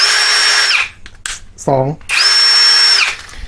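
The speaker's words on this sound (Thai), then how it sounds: "ในส่วนมอเตอร์นี้ต้องบอกว่าแรงมากเลยนะครับ แล้วก็จะเป็น สว่านแบบ 3 ระบบนะครับ" PUMPKIN 50438 16V cordless impact drill, two loud high-pitched whirring bursts that spin up and stop, with a short spoken word between them.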